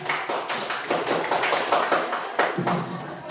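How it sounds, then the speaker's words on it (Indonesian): A classroom of students clapping their hands together, a dense, steady patter of many claps running throughout at close range. "Baik, tepuk tangan."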